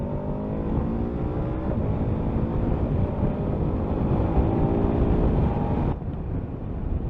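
A 2022 KTM 1290 Super Adventure S motorcycle engine pulls hard, its loud steady roar climbing in pitch through the revs before a sudden drop near the end, then carrying on, with no voices.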